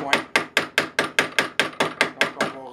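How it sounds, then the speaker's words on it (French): A hammer strikes a metal rod to round its corners, about eleven sharp evenly spaced blows ringing out close and loud at a steady brisk rhythm. "on va prendre un marteau, un vrai marteau, et on va juste arrondir les coins"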